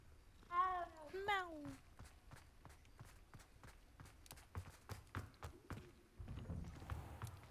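A cat in Hogwarts Legacy lets out two clear rising meows near the start, then footsteps tap steadily in a quiet game scene.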